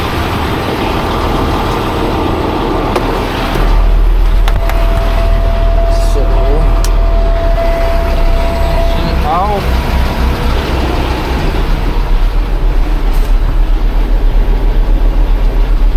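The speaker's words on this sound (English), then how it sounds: "I'm going to set that back to idling." A steady low engine rumble idles throughout, loud and continuous, with occasional faint squeaks and clanks over it.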